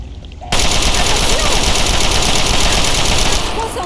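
Heavy automatic gunfire in Fallout 3 erupts suddenly and keeps up as a loud, continuous rattle of rapid shots. A voice speaks underneath the din.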